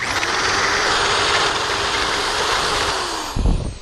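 A power tool fitted with a small bit grinds out material in a cabinet-door woodworking job, a loud, steady, high whirring drone that holds for several seconds and then stops abruptly with a short clatter.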